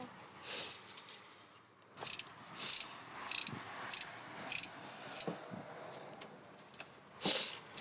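A wrench turns the bolt holding the pulley on a 1993 Toyota Corolla during V-belt replacement, giving a series of short, sharp clicks and metallic ratchet bursts at irregular intervals, close by, with faint talk in between.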